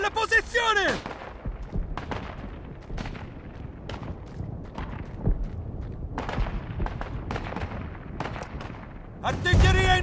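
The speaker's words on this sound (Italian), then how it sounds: "Artiglieria in arrivo!" Artillery fire in the World War I shooter Isonzo, on the Dolomites map: repeated sharp blasts and booming impacts at irregular intervals, some loud and close, others more distant, with voices shouting over the barrage.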